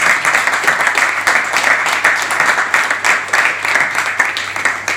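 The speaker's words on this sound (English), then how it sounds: "deserves a round of applause for me." Audience applause after a film Q&A introduction, steady dense clapping from a room full of people, moderately loud and sustained throughout with no voices on top.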